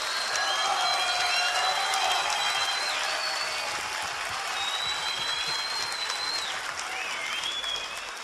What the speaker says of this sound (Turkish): Güçlü bir alkış bekliyorum.